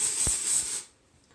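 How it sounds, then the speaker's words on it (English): A spray bottle mists water onto hair at the root line in a steady close hiss lasting under a second, then cuts off to quiet room tone. "spraying at that root line all the way through"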